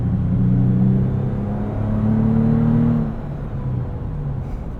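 A 2022 Toyota 4Runner TRD Pro SUV engine revs up with a steady droning exhaust tone that climbs, holds, then drops back to a lower hum, loud and close.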